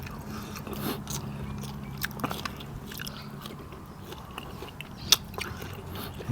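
Someone chews a crisp Thai green papaya-style pounded salad made with nipa palm fruit, loud close crunching bites in an irregular rhythm with scraping, no talking.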